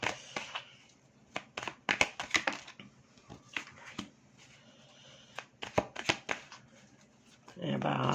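Tarot cards being shuffled by hand in sharp, crisp riffling bursts with brief pauses between them, close and quiet, with a voice speaking at the end.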